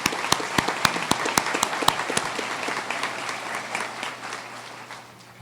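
Audience applause fills a hall at the Kirtland Community College 2017 commencement ceremony, opening with a few sharp distinct claps before swelling into dense, steady crowd clapping that gradually fades.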